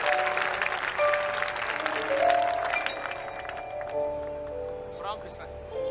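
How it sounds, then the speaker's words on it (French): A church congregation at a large Pentecostal crusade applauds together, steady clapping filling the hall for about six seconds while voices and a sustained tone carry over it. "Est-ce que tu peux applaudir pour les voisins de gauche, les voisins de droite?"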